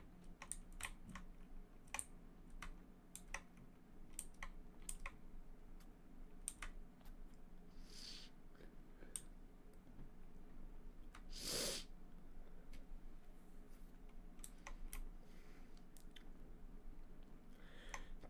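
Computer keyboard typing during a Minecraft session: sparse, irregular key clicks scattered steadily throughout, crisp and near, over a faint low background hum.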